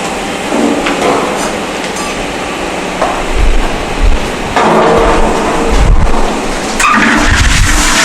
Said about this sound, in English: we are going to add the coarse aggregate to the concrete mixer